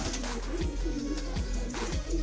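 A pigeon coos softly in a pigeon loft, in a low, rolling rhythm, with a few repeated calls over a constant low rumble.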